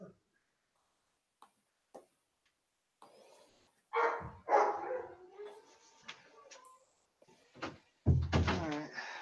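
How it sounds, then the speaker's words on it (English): An excited dog barks in short, loud bursts indoors, with quieter gaps between, while a door or cupboard clatters and a voice talks briefly nearby. "my dog's excited because he wants to go for a run with my mother, hence why he's barking so much"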